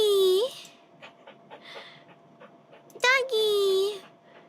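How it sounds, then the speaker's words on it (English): A dog panting in a point-and-click video game, quick breathy pants in short bursts between longer bright tones and effects, while a person talks and exclaims over the game. "Oh, doggy, come back!"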